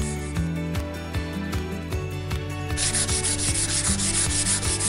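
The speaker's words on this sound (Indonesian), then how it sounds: "Setelah itu baru kita amplas dengan amplas nomor 240." Wood is sanded by hand with 240-grit sandpaper along the grain, giving steady rhythmic rubbing strokes close to the listener over a constant tonal background.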